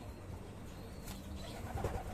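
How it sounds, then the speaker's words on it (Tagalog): Pigeons coo softly at feeding time in the afternoon, a faint low murmur against steady background noise, with no one speaking. "magpapakain na rin tayo ng mga ibon dahil hapon na"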